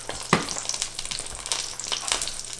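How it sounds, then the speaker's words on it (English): Blackened cabbage sizzling in hot butter with dulse, a close, steady frying crackle broken by a few sharper spits and pops, with no talking. "This is still sizzling hot."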